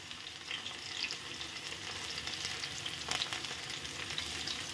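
Chopped tomato and onion frying in a pan, a soft continuous sizzle heard close by, with a brief burst of crackling and stirring near the end.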